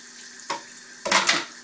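A dish is rinsed under a running kitchen tap, with two bursts of splashing water, a short one and then a longer, louder one, over a quiet background.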